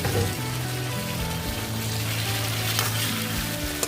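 Loud, continuous frying hiss of ridge gourd and potatoes cooking with spices in a pan, heard up close, with a steady low hum running underneath and occasional stirring scrapes; no speech.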